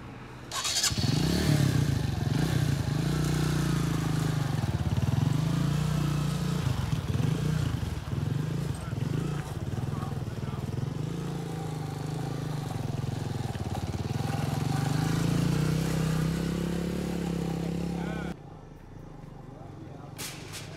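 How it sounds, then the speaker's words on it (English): Motorbike ride on a trip in Liberia, a close, loud engine droning continuously with rising and falling revs and rattling, then cutting off abruptly near the end. "after my harrowing and near-death experience on the motorbike ride"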